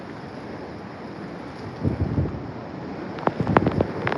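Hurricane winds with extreme rain lash Santa Cruz, Jamaica, a continuous roaring rush of wind against the microphone with heavier buffeting gusts bursting in toward the end.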